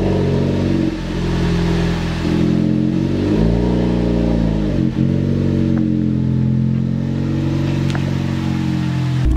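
A car engine running steadily and loudly close by, with a couple of dips in revs and some clattering, no voices.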